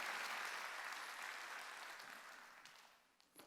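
A church congregation at a Wednesday worship service applauds in a steady, diffuse wash of many hands, heard from a distance and tapering off toward the end.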